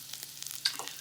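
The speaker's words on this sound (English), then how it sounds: "I think I'm starting to smell the onions and turkey cooking" Onions and ground turkey cooking in a pan for holiday chili, a soft steady sizzle with a couple of brief faint ticks and scrapes.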